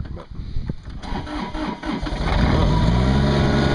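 A Ransomes AR 250 reel fairway mower engine cranks over and catches, rising into a steady loud running roar, with someone talking briefly at the start.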